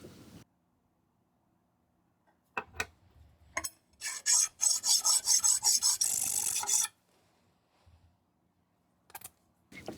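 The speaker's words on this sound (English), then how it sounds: "A quick scrub on a file takes care of the layout fluid and any scribe marks." A metal file rasps across steel in quick back-and-forth strokes, a dense run of scraping in the middle with a few short scrapes before and after, close and fairly quiet.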